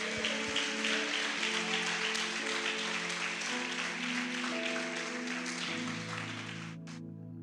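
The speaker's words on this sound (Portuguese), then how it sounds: "Você pode dar uma salva de palmas para Ele?" A church congregation claps during a worship service, a dense wash of applause under sustained music chords, tapering off near the end.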